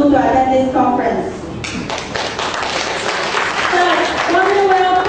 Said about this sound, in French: Acclamons Madame la directrice.